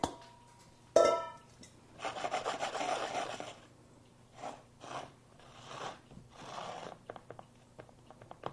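A cheesecake crumb crust is pressed into a springform pan with the back of a hand, making soft, close scraping and rubbing bursts in irregular strokes, with one sharper knock near the start.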